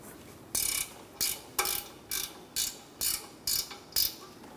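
A 13mm ratchet wrench loosens the rear brake caliper bolts on a 2012–2019 Fiat 500, giving eight evenly spaced, close ratcheting clicks in a steady rhythm with no talk.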